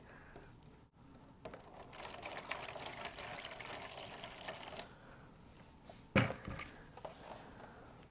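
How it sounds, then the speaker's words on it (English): Water poured into a paint tray to wet an upholstered fabric chair before painting it: a steady, moderately loud splashing pour lasting a few seconds, followed by a sharp knock and faint handling. "The first step is just to pour some water into a paint tray."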